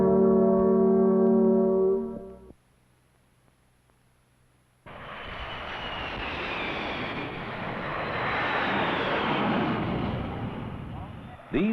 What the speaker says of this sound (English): These jets landing at a large metropolitan airport may one day do so a lot quieter